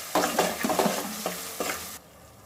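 Sliced onions frying in a pan with turmeric and ginger, a close sizzle broken by several quick stirring scrapes, ending abruptly after about two seconds.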